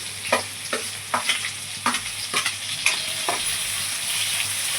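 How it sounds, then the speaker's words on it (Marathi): Onion and green chilli hit a pan of roasted cumin, sizzling and frying steadily while a spatula scrapes and stirs in a series of distinct strokes; no voices. "आता आपण याच्यामध्ये कांदा आणि मिरची घालूया।"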